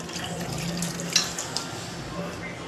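Water runs and splashes into a pressure cooker in a short steady pour, with a couple of light clinks and faint talking in the background.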